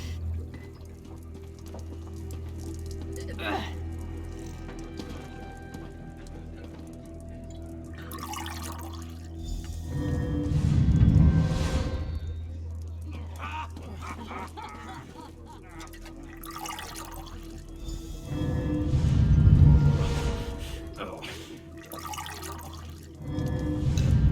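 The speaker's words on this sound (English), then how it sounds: "Take the potion and pour it into the 3 casks" Liquid poured in Elder Scrolls Online, two separate gushing pours of potion into casks, each a few seconds long, over a low ambient hum and faint in-game sounds.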